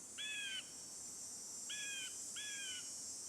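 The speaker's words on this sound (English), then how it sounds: "Is that what a blue jay sounds like?" Blue jay call from the Nancy Drew game Ghost Dogs of Moon Lake, three clear, bright harmonic calls in a brief pair and a later pair, heard alone against a faint steady hiss.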